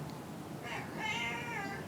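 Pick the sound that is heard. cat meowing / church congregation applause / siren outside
cat meowing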